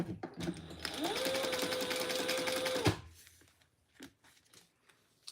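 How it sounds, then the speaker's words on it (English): A sewing machine stitches a fabric bag, using a very short stitch length, with a steady, rising whirring run that lasts about two seconds before stopping abruptly, followed by faint handling clicks. "we're just going to sew around that. And I'm going to backstitch."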